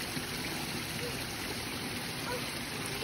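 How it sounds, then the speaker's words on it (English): A huge waterfall rushes close by along a hiking trail, a steady broadband roar of falling water that stays even and unbroken throughout, with no voices over it. "there's a huge waterfall right there."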